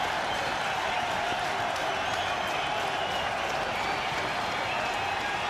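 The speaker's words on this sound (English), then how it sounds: "Well, the crowd are on their feet." Cricket stadium crowd at a 1998 India vs New Zealand match in Sharjah cheers and applauds a wicket, a dense, steady roar of clapping and shouting that fills the whole stretch without a break.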